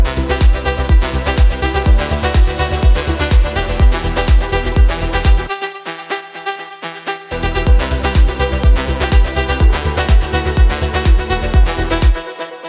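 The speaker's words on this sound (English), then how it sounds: "So this is our leading synth element here" A bright synthesizer lead melody plays over a full melodic vocal house track with a pounding beat that drops out briefly midway before returning.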